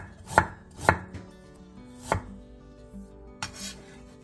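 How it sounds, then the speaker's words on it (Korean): Cheongyang green and red chili peppers and a knob of ginger are sliced with a knife on a cutting board, giving a few sharp, separate chops, close by, irregularly spaced, with faint background music and no talking. "청양고추 1개와 청양 홍고추 1개를 길게 어슷썰고 생강 1톨을 편"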